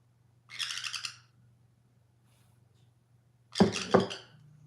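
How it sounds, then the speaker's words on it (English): Pet birds squawk indoors in two short harsh bursts, the second louder and nearer, with quiet gaps and a low steady hum beneath. "Oh, the other birds I hear now."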